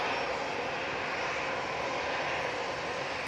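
A Ryanair Boeing 737 taking off for Krakow, its jet engines giving a continuous even roar at moderate distance, steady and unbroken with no voices.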